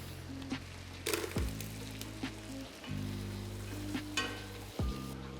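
Sausage and shrimp sizzle in melted butter with garlic, a steady crackling fry broken by clattering stirs and utensil knocks against the pan, close and fairly quiet with no talk.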